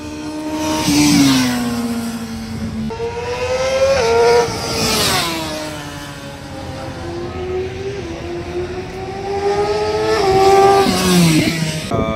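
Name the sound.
BMW motorcycles riding on Chennai race track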